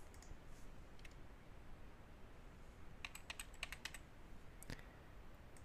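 Quiet keystrokes on a computer keyboard while setting up a database password for a PrestaShop 1.6 install, a brief scattered cluster of clicks over a steady hiss.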